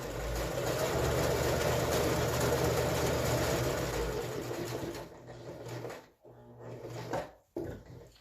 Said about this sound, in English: we're going to just sew along your drawn lines